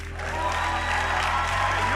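An audience at a church gathering claps to welcome its lead pastor onto the stage, a thick continuous wave of applause that swells within the first moment and holds loud and steady, with faint voices mixed in.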